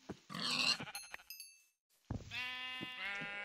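Sheep bleating in a survival video game, several drawn-out nasal bleats close by following a brief burst of louder noise and a short silence, with no talk over them.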